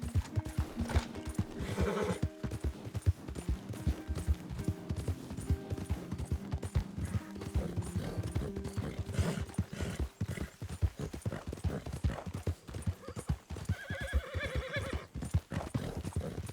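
A horse gallops in Red Dead Redemption 2, its rapid drumming hoofbeats continuous and close, with a neigh breaking through late in the run over a steady bed of movement noise.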